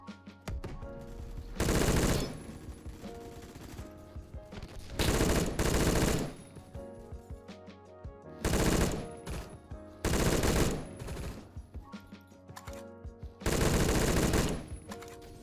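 Automatic gunfire in the video game Phantom Forces comes as five loud bursts of rapid shots, each lasting one to two seconds, with quieter game sounds between them.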